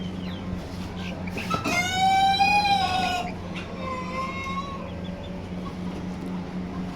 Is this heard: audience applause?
no